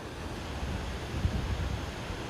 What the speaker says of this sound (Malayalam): ഒന്ന് നോക്കിക്കേ ഗൈസ് ആ വെള്ളച്ചാട്ടം